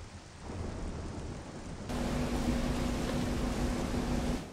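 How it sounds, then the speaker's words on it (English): Thunder and rain in the video game Metroid Prime Remastered, a broad steady rain hiss with low rumbling that swells louder partway through. A faint tone hums beneath the storm noise. "Ooh, thunder and lightning?"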